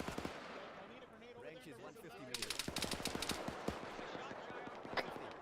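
Gunshots crackle in a military shooter game, with scattered distant pops giving way to bursts of quick, sharp shots in rapid rhythm, fairly faint overall, with a louder crack at the very end.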